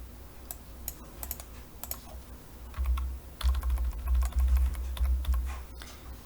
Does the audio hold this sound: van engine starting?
no